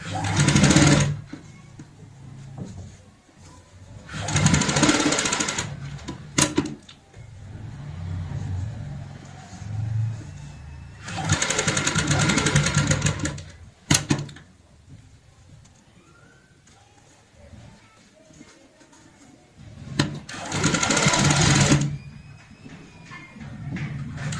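Sewing machine stitching a cushion cover with piping at home, running in several loud whirring bursts of a few seconds each, separated by quieter pauses with handling noise.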